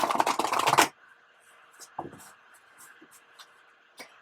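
A deck of tarot cards is riffle-shuffled in a quick, crisp burst of rapid flicking lasting under a second, followed by quiet, scattered taps and soft card handling.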